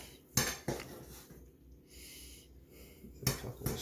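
A knife cuts slices from a rested smoked pork loin cooked on a Pit Boss pellet grill, giving a few sharp clinks and scrapes against a board or tray with quieter handling sounds between them, close by and with no talking.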